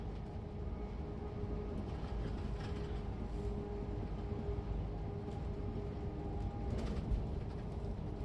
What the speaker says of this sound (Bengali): ট্রেনে করে যেতে হবে।